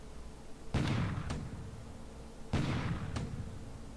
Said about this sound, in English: Alright, here's some bombardment.